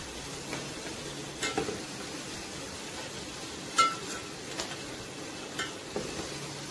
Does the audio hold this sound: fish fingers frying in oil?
yes